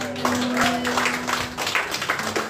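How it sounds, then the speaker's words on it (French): A church congregation claps along with music during a worship service, a dense run of hand claps mixed with voices and sustained tones, filling the room at steady volume. "Applaudissez un peu le Seigneur."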